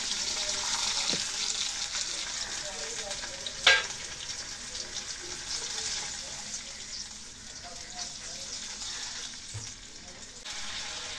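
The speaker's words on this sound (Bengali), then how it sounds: "এখন দিয়ে দেবো পেঁয়াজ, রসুন আর আদা বাটা।" Onion, garlic and ginger paste frying in a pan for a fish curry, a steady sizzle with stirring scrapes and one sharp utensil clink, a voice faintly audible in the background.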